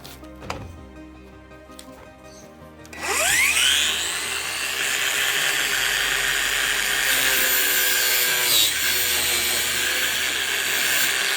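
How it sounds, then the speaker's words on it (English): An angle grinder cuts through square metal conduit, spinning up sharply, then holding a loud, harsh, sustained whine close by with a slight dip near the end. "it's a lot easier to cut it with a grinder. So I'm going to do that now."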